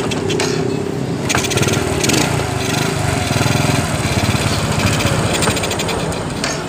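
A Honda Supra motorcycle engine idles steadily after being restarted, a close, continuous, rapid putter with fine mechanical ticking throughout.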